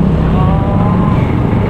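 Heavy road traffic near a market in the Philippines, a loud continuous roar of car and engine noise close by, steady throughout with no clear speech.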